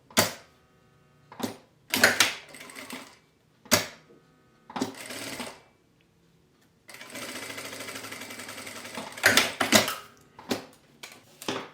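A sewing machine stitches fabric for a pencil case in short separate bursts, then one long continuous run near the end, close by and with no speech.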